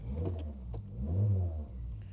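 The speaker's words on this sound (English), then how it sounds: "let's see if we can get the car started again" An old Nissan Micra Mk1 car engine cranks and catches on the first try, then runs with a low, steady mid-pitched rumble that rises into a brief rev, close and loud.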